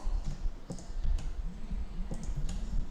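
A computer mouse or keyboard gives a handful of light, close clicks spread across a few seconds over a faint low background hum.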